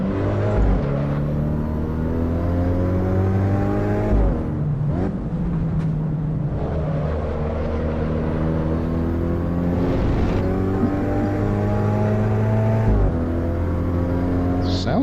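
A Hyundai race car in Assetto Corsa Evo revs hard with a loud, steady engine drone. The pitch climbs through repeated gear changes, with brief drops between shifts, and it carries on alone without any talk over it.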